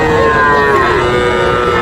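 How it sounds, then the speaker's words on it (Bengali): A crossbred bull calf at a cattle market in Ambari, Dinajpur, gives one long, loud, drawn-out moo with a wavering tone, over a steady murmur of crowd noise from the busy livestock market. "এটা ক্রস জাতের ষাঁড় বাচ্চা"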